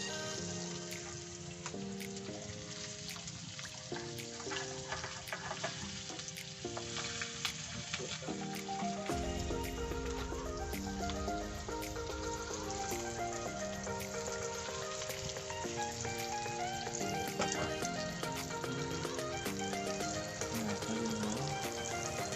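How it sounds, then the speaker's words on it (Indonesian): Onions frying in a pan for sambal give a steady, close sizzle that runs throughout, partly masked by loud melodic background music. "Itu bawangnya lagi digoreng dulu biar matang."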